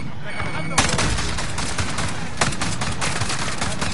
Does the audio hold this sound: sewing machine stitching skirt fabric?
no